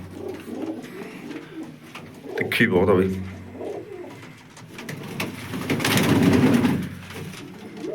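Pigeons coo softly in low, throaty murmurs close by while someone talks over them.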